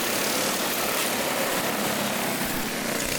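Backyard go-kart engines race around a dirt oval track, making a continuous buzzing drone that stays loud and steady with no break.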